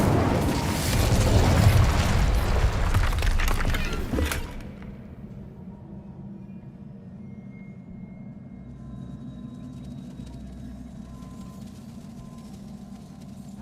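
A fiery Incendio spell erupts in Hogwarts Legacy with a loud, roaring blast of flame that lasts about four seconds, then cuts off abruptly and leaves a low, quiet ambient hum.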